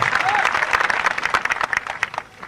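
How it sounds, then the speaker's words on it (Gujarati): A crowd at a Thakor community gathering applauds guests and artists, with dense, lively clapping close by that stays strong throughout before easing slightly at the end. "તાળીઓ જોરદાર વધાવજો"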